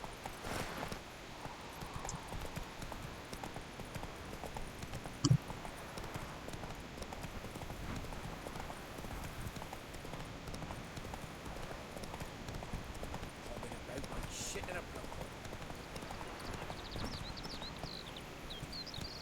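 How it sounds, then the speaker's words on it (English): Hooves of a horse in The Witcher 3 trotting in a steady, rapid clip-clop rhythm over ground, continuous and moderately close, with faint ambient background and no clear talk. "Este es mi caballo. Sardinilla. Let's go, boy."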